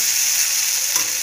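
Food being stirred in a hot cooking pan, a steady close sizzle with soft scraping of the spoon moving through it, no voices.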